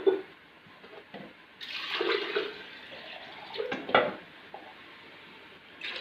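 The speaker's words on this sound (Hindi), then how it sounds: "इसमें हम पानी शामिल कर देते हैं।" Water poured into a cooking pot while making Karachi-style beef haleem, a splashing, gurgling pour that swells for a couple of seconds with light clinks of the pot, fairly close and with no talk over it.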